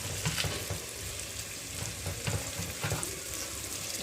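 Ginger paste frying for vegetable khichuri, a continuous close hissing sizzle with a few soft stirring scrapes, steady and moderately quiet, with no talking.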